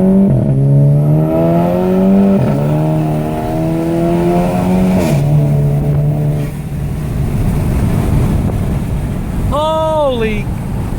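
VW Golf GTI MkV with an APR Stage KO4 turbo accelerates hard through several gears, each rising engine pitch broken by a shift, heard from inside the car, loud and close, with excited voices near the end.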